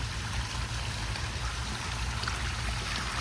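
A 500 gallon solar water pump pushes out a strong, continuous rush of flowing water, loud and close, with no talk over it.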